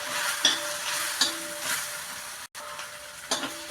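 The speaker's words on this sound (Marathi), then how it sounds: "आता हे मसाले छान एकजीव करून घ्यायचे" Onion, garlic and masala being stirred and roasted in a pan for Khandeshi vangyache bharit, a steady close sizzle with soft periodic scraping strokes of a spoon and no talk.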